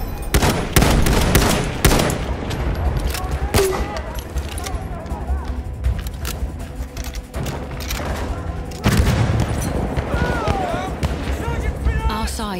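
Machine gun fire and explosions in Battlefield 1 Team Deathmatch on the Sinai map, dense repeated bursts and booms throughout, with in-game voice lines and chatter mixed under the gunfire.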